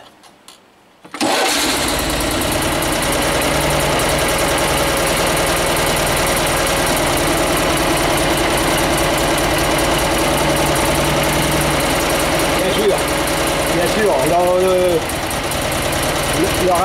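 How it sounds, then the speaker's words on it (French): A Panhard WL1 car engine catches on the starter after a short silence, then runs steadily at a loud, rough idle with a persistent knocking rhythm. "Un coup de démarreur."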